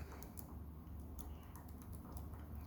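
Small, sharp pin clicks from an Evva ICS dimple lock being picked, a quick irregular run of faint ticks over a low steady hum, no voices.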